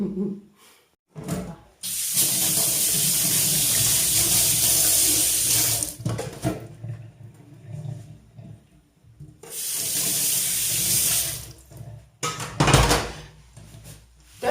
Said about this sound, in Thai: เราจะล้างแอปเปิลกันเนาะ